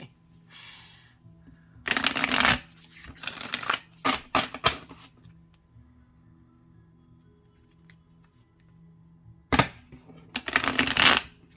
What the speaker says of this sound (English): these actually shuffle pretty nice this way